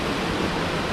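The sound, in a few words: waterfall heard while diving in a pool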